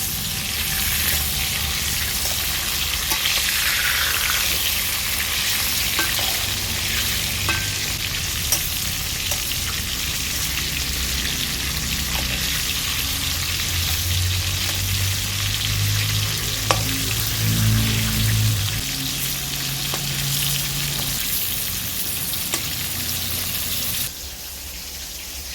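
Pieces of pointed gourd (potol) fry in a pan with a continuous loud sizzle, broken by scraping and clinks as they are turned, holding steady before dropping off near the end.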